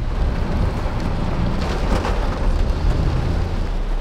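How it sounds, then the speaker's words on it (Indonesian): Heavy rain pours over Yogyakarta in the afternoon, a steady dense roar of falling water with a rumbling low undertone, loud and continuous throughout. "dan sore ini Jogja diguyur hujan deras"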